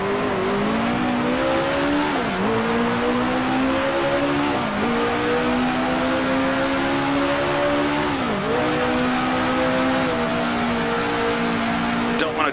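1966 Formula One race car braking in the Grand Prix Legends racing game at the South African Grand Prix, a loud, continuous engine whine that dips sharply several times as the car slows and downshifts.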